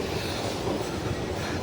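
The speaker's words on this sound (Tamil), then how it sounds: "ஏர்போர்ட்டுடைய என்ட்ரன்ஸுக்கு போகிற மெட்ரோவிலேருந்து" Delhi Metro airport-line train running steadily, a continuous close rumble of wheels on rails with faint clatter and no voices.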